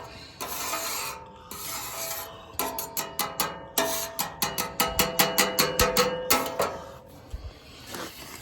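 A metal spatula scrapes across a flat griddle while cheesesteak fillings cook, in bursts of rapid rhythmic strokes close up with short pauses between them.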